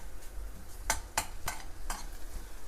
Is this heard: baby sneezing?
no